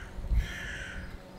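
A crow in a tree outdoors gives a single faint, distant caw over a steady low background rumble.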